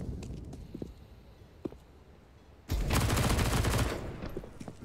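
Tec-9 pistol fire in a CS:GO pro match on Overpass: a few faint scattered clicks and shots at first, then a loud, dense burst of rapid gunfire lasting about two seconds before easing off.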